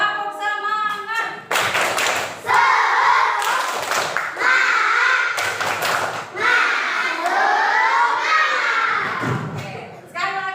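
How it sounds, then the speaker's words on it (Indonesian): Schoolchildren in an elementary classroom do a rhythmic spirit clap, sharp bursts of group clapping in patterned beats mixed with loud chanting kids' voices. "Coba tepuk semangat."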